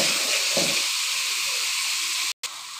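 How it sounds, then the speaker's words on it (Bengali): Food frying in a pan with salt and turmeric: a loud, steady hissing sizzle close up, unbroken apart from a brief cut near the end, no voices. "একটু ভাজি করে নেব।"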